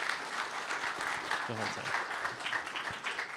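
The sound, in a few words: audience applause after a conference talk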